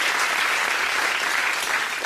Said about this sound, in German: ein verdienter Applaus.